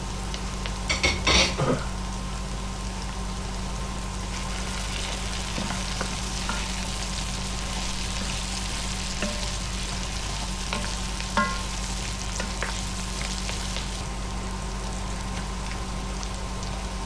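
Garlic is stirred into a frying pan, where a continuous close sizzle runs steadily with a short burst of utensil scraping near the start and scattered soft clicks later.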